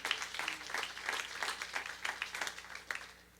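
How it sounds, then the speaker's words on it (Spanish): Applause from a church congregation in a morning service, steady scattered clapping at moderate distance, lasting the whole stretch with no talking. "Den un aplauso al Señor en esta mañana"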